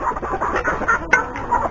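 Chickens and hens clucking in a farmyard on a small country property: a dense, close, continuous chatter of overlapping clucks with no talk.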